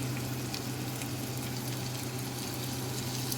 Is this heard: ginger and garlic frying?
yes